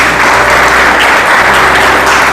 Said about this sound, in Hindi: हाँ, ताली बजा रहे तो पूरे बजाइए